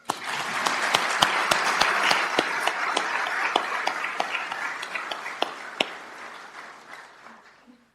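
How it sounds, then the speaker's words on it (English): Audience applause at a police department graduation and swearing-in ceremony in Fargo, with steady clapping and a few sharp, close claps, fading out toward the end. "We can give her applause."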